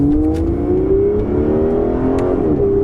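Aston Martin Vanquish engine revving under throttle, a loud, steady engine note that climbs in pitch and holds close and alone, with a brief dip near the end before rising again.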